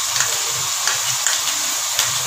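Ginger garlic paste frying in a pan for chicken biryani, a loud, steady sizzle with faint periodic stirring scrapes, close and constant throughout, no voices.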